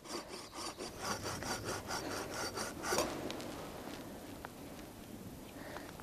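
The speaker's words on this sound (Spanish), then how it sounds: "Al estar muy mojado la madera, le cuesta un poquito a la sierra" A hand saw cuts through very wet wood outdoors at a bushcraft camp, with a series of rhythmic rasping strokes that fade into slower, quieter scraping, close and with no talk over it.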